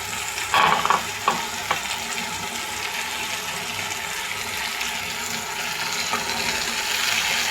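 Okra fries in a pan with a dense, steady hiss of hot oil that holds evenly throughout, opening with a brief clatter of the vegetable and utensil at the start, nearby and without voices.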